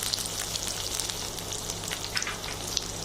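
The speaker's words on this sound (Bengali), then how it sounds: "প্রথমে আমি দিয়ে দিয়েছি পরিমাণ মতো তেল, তারপরে কিউব করে কেটে রাখা পেঁয়াজগুলো এবং কিছু কাঁচামরিচ" Cubed onions and green chillies fry in oil with a steady, soft sizzle and faint crackles, close but fairly quiet, with no talking.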